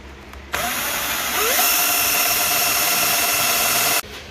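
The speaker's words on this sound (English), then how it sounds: "so finished drilling the holes" A power drill whines steadily for about three and a half seconds as it bores holes through metal on a 1969 Mustang fastback, loud and close, then stops abruptly.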